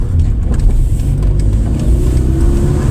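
A Seat Ibiza engine idles steadily after a cylinder 3 misfire repair, a continuous close low rumble with a faint rising tone and no voices.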